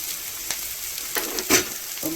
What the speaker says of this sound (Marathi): जरा व्यवस्थित भाजायचं ते कारण सुक्का आहे स्लोवर स्लो गॅसवर चांगले भाजून झाले